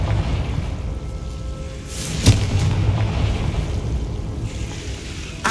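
A Confringo fire spell in Hogwarts Legacy explodes in a single sharp burst near the middle, cutting through a steady windy, ocean-like background wash.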